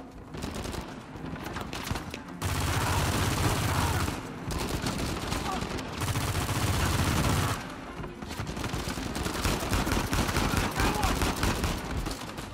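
Rapid bursts of automatic gunfire from a gun in the video game Uncharted 4, loud sustained volleys in several stretches separated by brief pauses, with dense game noise between them.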